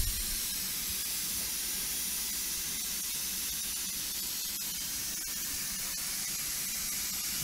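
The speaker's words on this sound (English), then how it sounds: "This thing has been steaming now for, at least 10 minutes." Steam hisses steadily from a canner vented during pork canning, a broad continuous rushing hiss that stays loud and even throughout with no voices.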